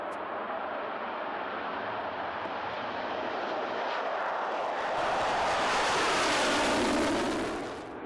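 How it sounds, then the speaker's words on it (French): A Mirage 2000C fighter jet roars past, a broad, steady jet noise that swells to a loud peak near the end and then begins to fade, with no speech over it. "Le Mirage 2000C, pour les missions de défense aérienne et de sûreté de l'espace aérien."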